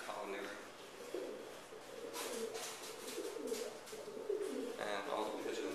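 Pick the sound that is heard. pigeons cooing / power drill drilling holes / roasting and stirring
pigeons cooing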